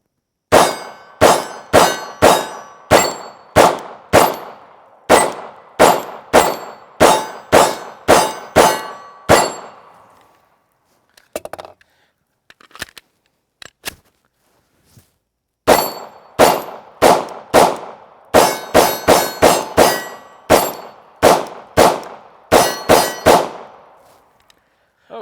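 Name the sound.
CZ P-07 pistol shots ringing steel targets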